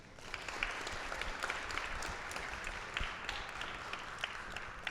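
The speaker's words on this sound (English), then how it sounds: "Please give a round of applause to the teachers." Applause from an audience honouring teachers at an AI education event rolls on as a dense, steady wash of many hands clapping, fairly faint and distant, with no talk over it.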